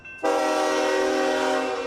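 A funeral train for Bush 41 nearing its final stop in a small Texas town blasts its horn loud and close, one sustained chord that starts abruptly and holds steady to the end.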